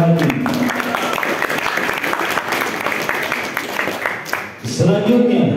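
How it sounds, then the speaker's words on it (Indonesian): A crowd at an Islamic quiz competition applauds the judges' panel, loud continuous clapping that dips near the end before a voice speaks over it. "Tepuk tangan untuk Dewan Hakim."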